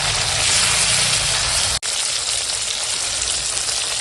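Tomato fries in mustard oil in a wok with a loud, close, steady sizzling hiss, broken once by a momentary cutout before the sizzle resumes. No voices are heard.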